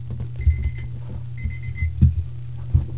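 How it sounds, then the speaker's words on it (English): A timer alarm beeps in two short bursts of repeated electronic tones, fairly clear over a steady low hum and a few soft knocks, with no talking. "And that's the timer"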